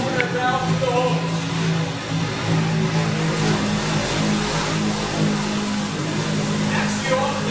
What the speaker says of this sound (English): We'll let the pump wind up.